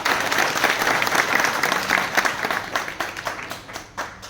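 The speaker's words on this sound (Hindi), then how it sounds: "मैं चाहता हूं कि एक बार क्लैपिंग जोरदार हो जाए।" A school meeting audience bursts into loud, sustained applause for the staff of classes one through eight, dense crowd clapping that holds steady and slowly thins toward the end.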